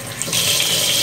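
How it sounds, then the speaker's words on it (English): Tap water runs and splashes over a plastic NES console shell being rinsed in a sink, a brief steady hiss that swells after a short start. "run the water on it."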